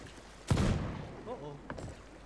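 Gunshot in a pirate sailing game at sea, a single sharp loud crack with a short rumbling tail, then a second fainter shot, under a brief voice.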